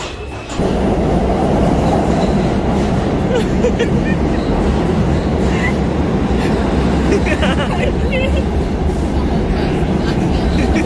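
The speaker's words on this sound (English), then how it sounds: "the right train is coming soon though." Steady loud rumble of a Manhattan subway train in motion, continuous wheel and rail noise filling the whole stretch, with faint voices mixed underneath.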